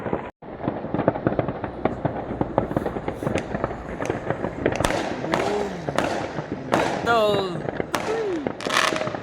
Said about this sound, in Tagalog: panoorin natin yung mga fireworks nila dito,